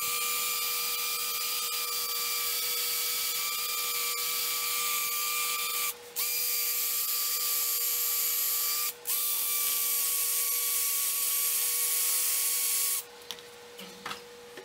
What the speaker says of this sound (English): Power sanded.